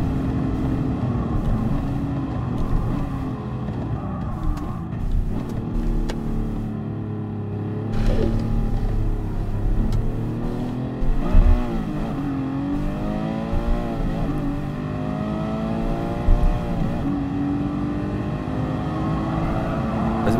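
A race car engine drones continuously around WeatherTech Raceway Laguna Seca in GT Sport, with rising and falling revs and gear changes, loud and steady throughout.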